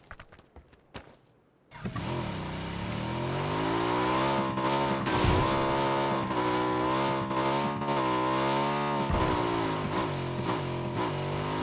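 A motorcycle ridden in the video game PUBG, its engine starting up and then droning loud and steady, pitch rising and falling with revs and gear changes, close and alone.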